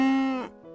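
A single cow moos, one long low call that swells and then fades out, close and clear with no other sounds.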